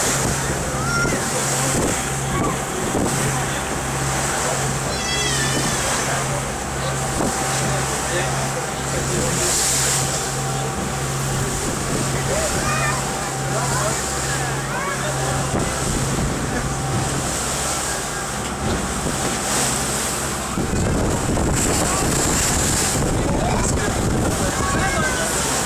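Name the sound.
sea waves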